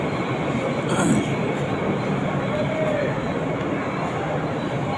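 A Virar to Churchgate fast AC local train rumbles steadily with a broad, constant roar and faint wheel noise, heard from inside or close by, with no talk.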